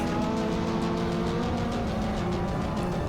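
Dirt track race cars approach on Montpelier Motor Speedway, a steady, dense engine roar with layered harmonic tones holding at constant loudness throughout without break.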